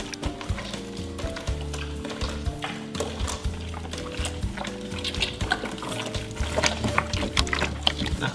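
Cleaned octopus is washed in water, with close sloshing, splashing and dripping sounds in an irregular rhythm, fairly quiet overall.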